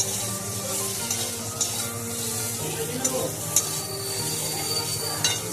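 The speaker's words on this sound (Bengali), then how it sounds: "আলুগুলোও এখন ওইভাবেই লাল লাল করে ভেজে নেব" Potatoes frying in hot oil, browning in a pan: a constant loud sizzle with occasional stirring scrapes and light clinks of a utensil, close up and without talk.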